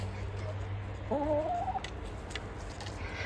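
A single chicken in a garden vegetable bed gives a short rising, warbling call amid low background hum, with faint scratching and rustling nearby.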